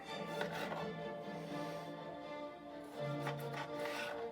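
A knife chopping a jalapeno on a cutting board in a home kitchen while making pineapple pico de gallo salsa, with a run of quick, light, close taps that pause briefly and then resume.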